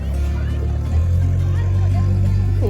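A farm tractor engine idles with a steady low rumble at a fall pumpkin patch before a hayride, close and continuous, while children and adults chatter in the background.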